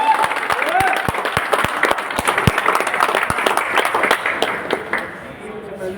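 Enthusiastic audience applause at an event honoring an achiever, dense clapping with a few sharp, distinct claps punctuating the wash, tapering off toward the end.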